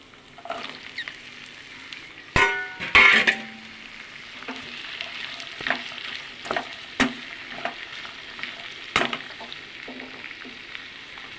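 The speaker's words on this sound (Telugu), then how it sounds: "మనం బంగాళదుంప ముక్కలు వేసేద్దాము." Potato pieces frying with onions in a pan, a soft continuous sizzle with clattering stirs and scrapes, a louder burst of crackling near the start as the pieces go in.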